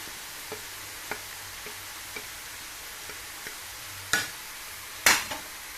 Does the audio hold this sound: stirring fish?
yes